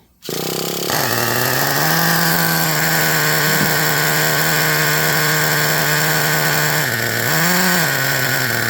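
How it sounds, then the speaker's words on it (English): A small engine idles steadily and loud, then the throttle is eased up around the seventh second, raising its pitch briefly before it settles back, running alone without talk. "While y'all hear it idling up higher, keeping it running"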